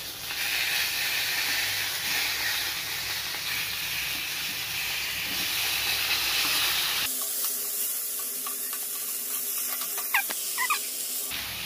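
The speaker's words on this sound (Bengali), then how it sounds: "এটা মাছ ভাজা চলছে, এক পিঠ হয়েই গেছে, একটু উল্টে দিই" Fish fries in a pan on a home stove, a steady broad hiss and sizzle that fills the first seven seconds, then drops to a quieter sputter with a few crackling pops.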